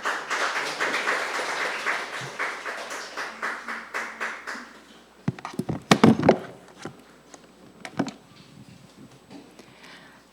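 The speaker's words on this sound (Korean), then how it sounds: "큰 박수로 모셔보겠습니다." At a policy forum, a small audience claps in light, rhythmic applause to welcome a speaker. It fades after a few seconds into scattered taps, shuffles and handling noises.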